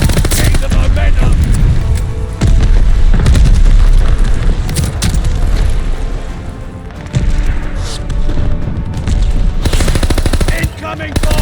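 Bomb explosions and gunfire in the video game Call of Duty Vanguard: dense, loud booms and rapid machine-gun bursts keep crashing in throughout, with heavy low-end impacts and brief lulls between volleys.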